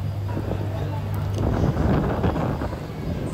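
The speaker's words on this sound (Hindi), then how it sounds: "कितनी शानदार यहाँ पे हवा चल रही है" Wind blows across a microphone at a riverside temple on the Shipra River in Ujjain, a rough, buffeting rush that swells midway with someone talking over it.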